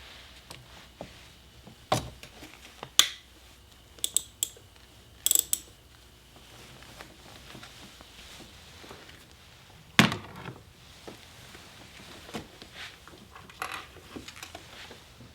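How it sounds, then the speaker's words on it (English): A ratchet with an extension works on the lower throttle body bolt of an Audi B7 RS4 during a carbon clean, giving sparse metallic clicks and clanks spread across a quiet garage, with no talk. "you can get this extension in there and you can undo that bottom bolt for the throttle body"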